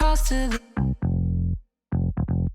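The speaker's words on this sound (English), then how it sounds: "So the bass sounds like this." A bass part plays alone in short, punchy notes with pauses between, low and full, after a brief higher note at the start.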